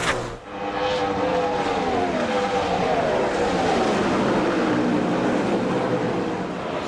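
NASCAR stock cars run side by side on a restart at the 2005 UAW GM Quality 500, a dense, steady engine roar swelling and shifting pitch as the pack passes, loud and continuous without talk.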